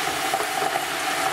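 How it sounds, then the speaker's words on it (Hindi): Ginger garlic paste fries in a hot pan for prawn biryani, giving a steady, close, even sizzle with no pauses for the whole short stretch. "और 2 मिनट के लिए इसको भूनेंगे।"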